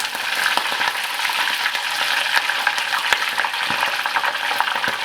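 Steady, loud crackling sizzle of giant freshwater prawns deep-frying two at a time in hot oil over medium-high heat, with sharp pops and spits scattered throughout, close up and without talk.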